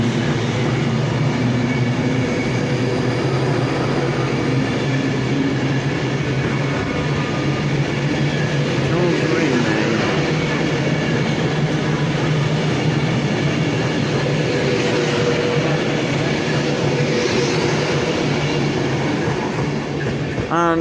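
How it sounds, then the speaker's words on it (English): A Class 175 train at a platform in Crewe makes a loud, steady rumble of engine and rail noise that holds for about twenty seconds, with a faint announcement-like voice far behind. "on platform 6 we have a Class 175"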